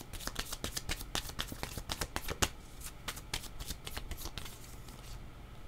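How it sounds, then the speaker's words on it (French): Tarot cards being shuffled and drawn, a dense run of rapid riffling flicks and slaps, close and fairly loud, continuing throughout without speech. "Il me semble qu'il manque une carte. Je vais en prendre une autre."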